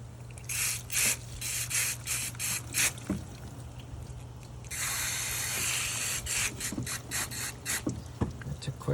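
A brush scrapes dissolved battery acid corrosion off a car battery's negative terminal, giving repeated short rough scratching strokes in bursts, with a longer hissing spray-like stretch midway, over a steady low hum; nobody speaks.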